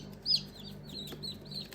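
Young chicks in a brooder give a high, sharp peep near the start, followed by fainter scattered cheeps over a low, constant hum.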